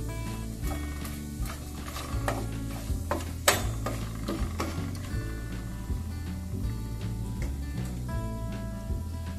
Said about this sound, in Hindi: थोड़ा सा स्टर करेंगे।